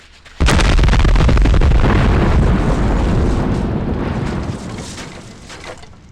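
A bomb blows up in The X-Files PS1 game: one sudden, loud, close explosion that hits hard and then rolls into a long rumbling decay lasting several seconds, with no voices.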